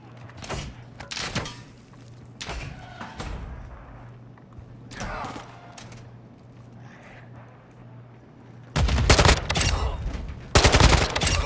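Gunfire in Warzone 2.0 on PS5, with bursts of close automatic shots early on, scattered thuds and shots through the middle, then a loud sustained volley near the end.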